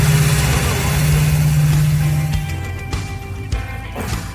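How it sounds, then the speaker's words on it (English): A 455 Oldsmobile V8 swapped into a Mazda mini-truck runs loud and rough, a heavy lumpy idle with a steady low drone that settles and pulses slightly toward the end. "Motor sounds insane."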